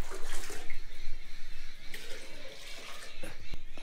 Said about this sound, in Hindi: देखिए पानी डाल दिए